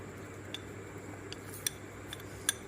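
Avaram poo flowers, sandal powder and lavender essential oil stirred together in a small container, giving a few sparse, light clinks and taps of a spoon against the vessel over a quiet background.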